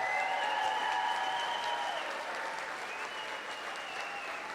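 Sustained applause from a standing audience at the Greater Tucson Leadership gala in 2020, dense and steady throughout, easing slightly toward the end, with faint whistles riding over the clapping.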